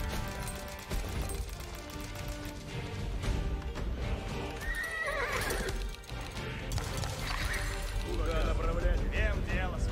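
Horses in the Age of Empires 4 video game whinnying repeatedly over clip-clopping hooves and battle clatter, loud and busy, with someone talking intermittently.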